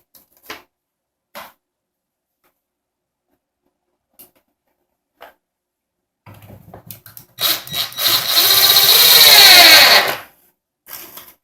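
A power driver drives H4 screws into undrilled holes to fix the braces on a KICK Royalton 55-inch foosball table. One loud whirring run lasts a few seconds after a few faint taps and short bursts, with no talk.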